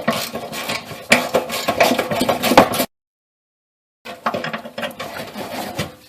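Ratcheting and scraping of a deep well socket backing out a 10mm fender bolt on a 1996-2000 Honda Civic, close and busy in two bursts separated by a second of silence.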